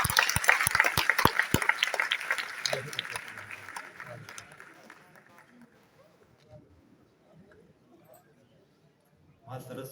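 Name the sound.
audience applause at poetry gathering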